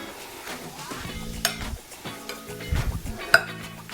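Onions and garlic sauté in a pan for beef stroganoff, giving a soft steady sizzle with intermittent stirring scrapes and light clinks of utensil on metal, close and fairly quiet with no talking.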